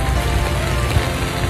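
Rain pours down at Kiawah during the PGA Championship, a dense, steady hiss of drops hitting surfaces close by, loud and unbroken, with no one speaking.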